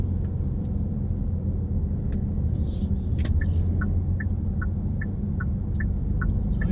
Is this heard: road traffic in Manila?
yes